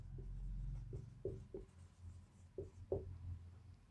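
Chalk or marker strokes on a classroom board during a lecture, a series of short tapping scrapes spaced irregularly, fairly close and clear over a low background hum, with no talking.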